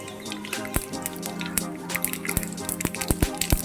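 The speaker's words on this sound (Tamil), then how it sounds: "அதனால தான் இப்போ கடுகு பொரிஞ்சிட்டு இருக்கு." Mustard seeds splutter and pop in hot oil in a home kitchen, with sharp crackles scattered irregularly and growing denser toward the end over a steady sizzling hiss.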